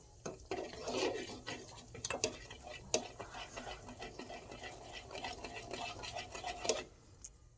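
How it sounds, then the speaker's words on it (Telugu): Homemade ghee bubbling in a pan while a utensil scrapes and stirs it, with repeated clinks and scraping against the metal over a steady sizzle, close and moderately loud. "చక్క ఇలా తిప్పుకుంటూ ఉండాలి"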